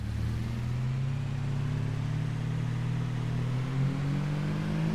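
A small Citroen or Peugeot car in Farming Simulator 22 drones past with a steady, close engine hum that slowly rises in pitch, loud and continuous, with no talking over it.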